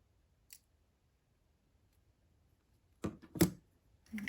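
Cutters snip jewelry wire for a beaded wire-wrapped earring, heard as a faint early click and then a few sharp, close metallic snips and clicks in otherwise near silence.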